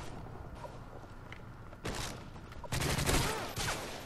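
M16 rifle gunfire in the shooter game Modern Warfare 3, a fairly faint sequence of short rapid bursts, with a quieter first burst and louder bursts toward the end over low game ambience.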